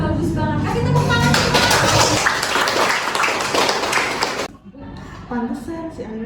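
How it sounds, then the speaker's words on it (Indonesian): Students in a classroom clap for a group's good grade, a dense burst of clapping and chatter that cuts off abruptly partway through, followed by quieter voices. "Kasih tepuk tangan."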